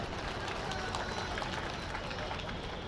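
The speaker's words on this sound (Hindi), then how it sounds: "के लिए जोरदार ताली बजा दीजिए।" A large crowd at a political rally applauds loudly and steadily, a dense wash of clapping that stays even for the whole stretch, heard from within the audience.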